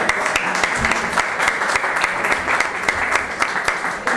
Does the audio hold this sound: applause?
yes